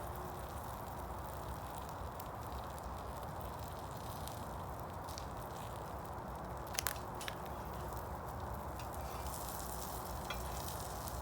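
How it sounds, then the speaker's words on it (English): Steady, continuous sizzling and spitting of food frying in butter in a pan, close and even throughout, with a couple of sharp crackles partway through. "I'm just going to let it sizzle away"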